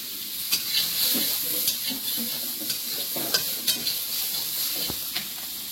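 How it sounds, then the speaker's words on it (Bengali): Mango pieces fry in hot oil with dried chili, turmeric, salt and sugar, giving a steady close sizzle broken by sharp, irregular scrapes and taps of a spatula stirring the pan. "আমটা একটু ভেজে নিয়েছি"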